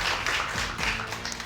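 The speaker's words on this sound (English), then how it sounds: "Round of applause for you guys." Applause for student teams on a televised high school quiz show, a short burst of studio audience clapping heard as a soft, blended patter of hands at moderate level.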